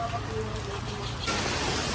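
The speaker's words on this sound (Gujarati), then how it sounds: "અહીંયા તો વરસાદે ચાલુ થઈ ગયો" Rain starts falling at a roadside crossroads, a steady broadband patter that grows noticeably heavier and louder partway through, with a low rumble of traffic or engines underneath.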